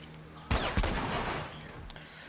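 Two shotgun blasts in the video game The Last of Us Part 1, sharp heavy booms in quick succession followed by a lingering rumble and echo, loud and close.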